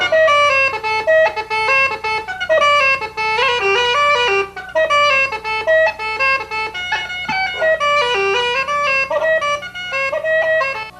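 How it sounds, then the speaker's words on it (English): Uilleann pipes play a quick melody in short, detached staccato notes, bright and reedy, loud and close with brief gaps between phrases and no talking. "But with ours, we can play staccato playing"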